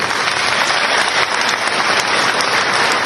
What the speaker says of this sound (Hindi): आइए अपना समर्थन जोरदार तालियों से उनके पक्ष में।